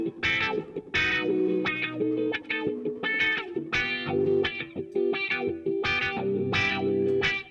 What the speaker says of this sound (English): Got compression as well there. Let's hear that on the guitar.